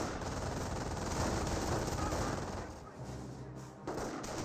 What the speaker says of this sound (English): We do have the garrison getting hit by MG42.